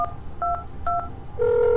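Telephone keypad tones at a phone booth in a video game: three short two-tone beeps at a steady pace, then a sustained dial tone over a low background rumble, with no talking.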